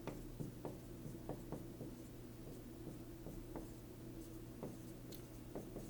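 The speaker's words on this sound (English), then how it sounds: "So I'm writing them all down up here on the board." Marker writing numbers on a classroom board, with short squeaky strokes at an irregular pace over a steady low room hum and no speech.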